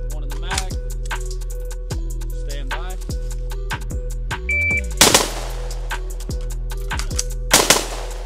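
Rifle fire during a timed reload drill: sharp, close shots in quick bursts with pauses between, the loudest cracks near the end, and no talking.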